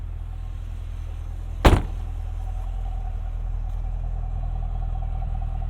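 A 2012 Chevrolet Camaro 2SS engine idles with a steady low rumble, broken once by a short sharp thump partway through.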